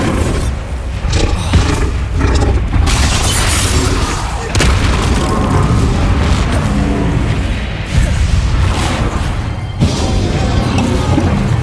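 Spell explosions boom and crash in the Hogwarts Legacy video game during a duel, continuous loud blasts and roaring impacts layered over game music, with shouted voices among them.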